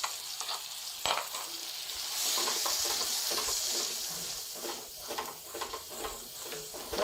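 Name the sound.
stirring chicken vegetable pasta mixture in a pan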